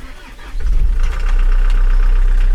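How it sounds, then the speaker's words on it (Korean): A 2.5-ton roll-off garbage truck's diesel engine cranks briefly and catches, then settles into a steady, loud low rumble at idle close by. "차량은 시동을 한번 걸어보고요"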